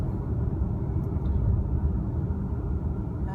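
A 2018 Audi Q5 2.0T accelerates hard in dynamic mode, its engine giving a dense, steady low rumble from inside the cabin with no voices.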